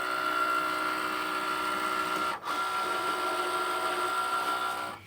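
A vinyl cutting machine steadily cuts a layer of vinyl with a close, continuous motor hum and whine. The sound has one brief dip partway through, and there is no talking.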